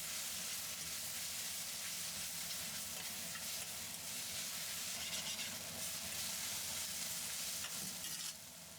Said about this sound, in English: add in garlic, salt, black pepper, and keep stirring for another minute.